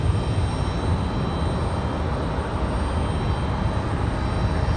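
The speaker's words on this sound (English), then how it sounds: "Southwest arrival" A Southwest airliner arriving from Dallas at Raleigh-Durham International passes as a steady, broad engine roar, moderately loud and constant with no talking.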